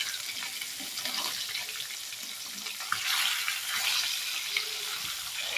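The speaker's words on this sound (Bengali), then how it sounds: "আর মাছটাকে বেশ কিছু সময় নিয়ে ভেজে নেব।" Rohu fish frying in a pan, a steady hissing sizzle of hot oil with faint crackles throughout, fairly quiet and close.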